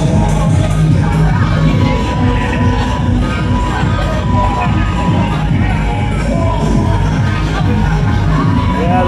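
Loud outdoor music from a Scooter concert at Hellfire in Blackpool pounds steadily while a big dancing crowd cheers and shouts throughout, a dense, continuous wall of sound.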